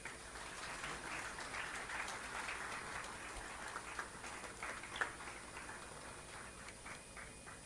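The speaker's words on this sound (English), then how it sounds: "request members to offer a huge applause" Members at an ICAI felicitation ceremony give faint, distant applause, an even patter of many hands that holds steady throughout.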